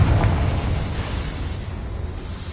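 A Confringo spell explosion in the game Hogwarts Legacy, a loud boom at the start that decays into a long rumbling roar, with no voices.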